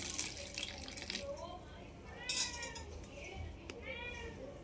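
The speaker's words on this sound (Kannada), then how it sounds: "ಇವಾಗ ತೊಗರಿಬೇಳೆನ ತೊಳೆದ್ಬಿಟ್ಟು ಹಾಕ್ತೀನಿ." Running water from a tap splashes steadily as toor dal lentils are rinsed in a bowl, with a brief louder burst midway and a faint cat meow in the background.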